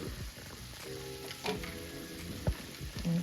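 Chopped celery hits a hot pot for Cajun red beans and rice, producing a steady close sizzle and crackle with a few soft clinks and stirring knocks, and no voices.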